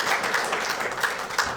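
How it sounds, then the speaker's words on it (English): Audience applause at a history center talk, a short burst of scattered clapping from a modest crowd at steady loudness. "let's give them a big round of applause"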